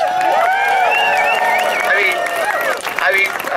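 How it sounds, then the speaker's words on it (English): A crowd at an outdoor anti-war student rally applauds and cheers for SDS, steady clapping mixed with whoops and shouting voices, sustained and fairly loud throughout. "let's give a round of applause for SDS"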